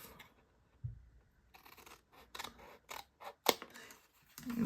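Scissors cut through a cardstock box template in short, close snips and scrapes, with quiet pauses between the cuts and a louder rustle at the end.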